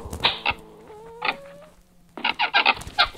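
Chicken clucking in a survival video game, a series of close, loud, sharp clucks in short bursts with a brief drawn-out call in the middle.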